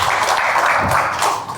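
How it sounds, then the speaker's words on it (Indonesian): An audience at an Indonesian talk claps together, a brief burst of dense hand clapping close by with no voices. "Supaya semangat, kita tepuk tangan dulu dong."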